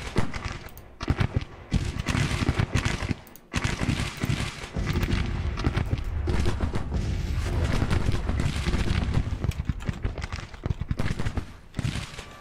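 Artillery and gunfire in Grand Tactician: The Civil War, dense rolling booms and crackling volleys that continue almost without a break, loud and near.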